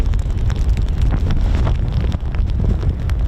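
Strong wind at an RAF airbase on a rainy day buffets the microphone with a constant loud roar and gusty low-end rumble throughout, no voices present.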